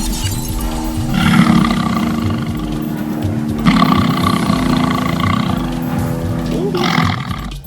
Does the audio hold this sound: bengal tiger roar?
yes